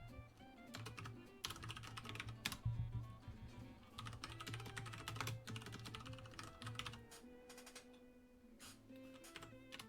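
Rapid typing on a computer keyboard while writing code, a dense run of close clicking keystrokes with brief pauses, alone and fairly quiet.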